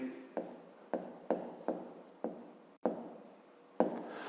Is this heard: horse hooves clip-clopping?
no